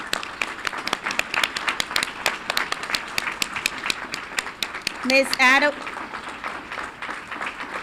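A school board meeting audience gives a round of applause to district staff, sharp individual claps in a fairly close, uneven rhythm, with a brief voice cutting in partway through.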